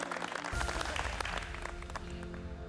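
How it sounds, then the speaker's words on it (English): MasterChef Australia contestants applaud Matt and Sashi in a faint, steady round of clapping from a group that swells briefly, then settles into a sustained patter and fades under a low background hum. "Everyone give Matt and Sashi a huge round of applause."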